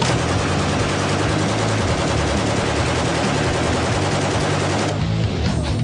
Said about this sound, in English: Now just so we finish off with real firepower, the M60 is the biggest gun that a man can operate.